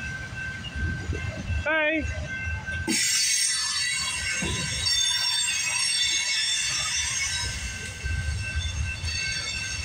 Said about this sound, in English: I'm filming a train.